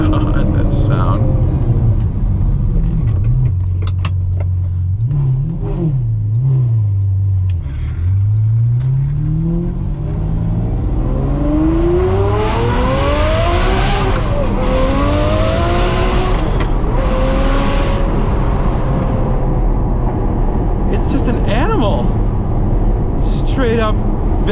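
Ferrari fitted with an aftermarket exhaust revving through lower and mid RPMs, deep rumbling idle swelling into rising snarling pulls and a sharp peak before dropping back; loud and close, with someone talking over parts.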